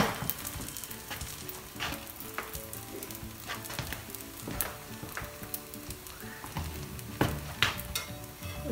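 Kerala parotta frying on a hot pan gives a continuous close sizzle with bursts of crackling and spattering oil, along with occasional soft scraping and clatter.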